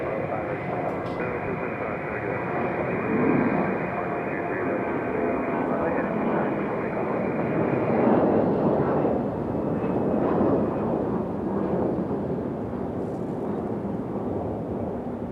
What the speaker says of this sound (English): At least we got Lufthansa in today. Nice sounding departure here.